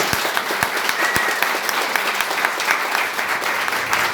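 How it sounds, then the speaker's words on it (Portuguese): A church congregation claps together at a sermon, a steady dense patter of many hands with a few sharper individual claps standing out, moderately loud and without speech. "Vamos aplaudir o Senhor Jesus."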